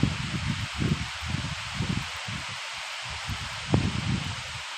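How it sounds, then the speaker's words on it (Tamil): Steady cool breeze through leaves by a lakeshore in the evening, a continuous soft rustling hiss with gentle low gusts of wind buffeting the microphone. "காற்று அப்படியே சூப்பராக இருக்குது குழு குழு குழுன்னு காற்று"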